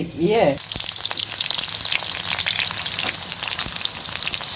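Dried chillies fry in hot white oil in a pan, giving a loud, steady, crackling sizzle throughout, with a brief voice at the very start.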